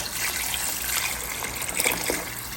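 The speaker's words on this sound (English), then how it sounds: "I'm going to add in a quart-sized jar of water. We're just adding the water now." Water is poured from a quart-sized jar into a cooking pot, a close, steady gushing trickle with small splashy bursts near the end.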